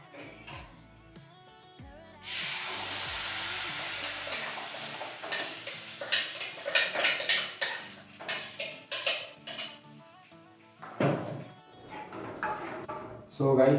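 Ground coriander chutney poured into a hot tempering in a pan, a loud burst of sizzling that settles into repeated stirring and scraping of a spoon against metal, with a voice speaking now and then.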